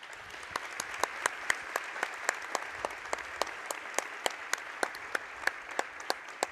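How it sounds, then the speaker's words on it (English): Steady applause from a crowd at a women's college basketball game between Monroe College and CMCC, with sharp rhythmic claps standing out over a continuous wash of clapping. "Let's give them the recognition they've earned and the ovation they deserve."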